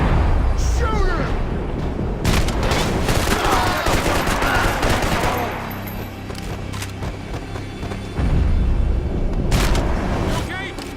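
Heavy gunfire in Max Payne 3: dense bursts of automatic fire and single shots, loud and close, briefly easing before resuming, with voices talking over the shooting.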